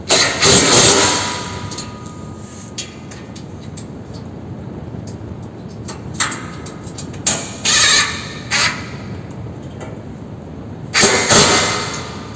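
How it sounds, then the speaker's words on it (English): A low-powered rattle gun (impact wrench) driving bash plate bolts: several loud, harsh rattling bursts, each under a second, separated by pauses, close up over a steady background hum. "I'm using my rattle gun. It's not a very high powered one"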